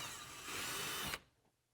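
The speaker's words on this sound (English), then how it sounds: "mark it and drill it out." A power drill boring a hole through a Polaris RZR fender, a steady high whine that rises in pitch midway and then stops abruptly, leaving near silence.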